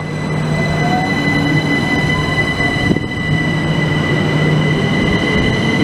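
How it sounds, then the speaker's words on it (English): A train rumbles loudly past Grove Park station, a steady close roar of wheels and motors with a faint squeal, and no voices. "375708 to Charing Cross."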